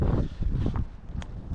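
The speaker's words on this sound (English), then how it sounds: "Just the gusts every now and again start to pick up" Gusts of wind buffet the microphone on a sea fishing pier at Whitehaven, West Cumbria, in low, rumbling bursts, rising and falling unevenly throughout.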